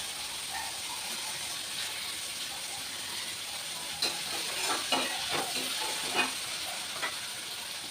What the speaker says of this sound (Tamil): இந்த வெங்காயம் நல்லா வதங்கிட்டாங்க.